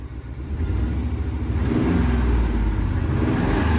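A bucket truck's engine revs up from a lower idle into a sustained, louder roar with a steady low rumble, heard up close and alone.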